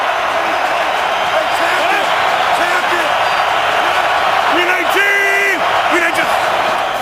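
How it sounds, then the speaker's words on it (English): A packed stadium crowd at an NFL playoff game, Packers at Redskins, roars continuously as a dense, loud wall of cheering, with whistles and whoops rising above it. "Crowd's back in it."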